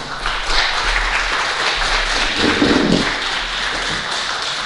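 An audience applauds a brother who has just arrived at a talk on gratitude in marriage, with steady dense clapping filling the room throughout and a brief thumping burst midway.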